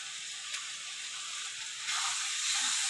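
Spice paste sizzles in a pan with Kashmiri chili powder for chicken jhol, a steady bright hiss that swells louder near the end, alone without talk.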